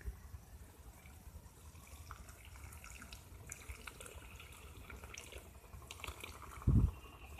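Water is poured onto a freshly planted hibiscus cutting pressed firmly into soil, heard as a faint background trickle followed by a brief, louder splash near the end.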